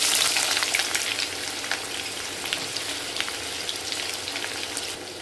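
Chopped onion sizzles and crackles in hot oil in a kadhai for zunka, after mustard seeds and cumin have gone in, a steady close frying hiss with fine popping and no talking.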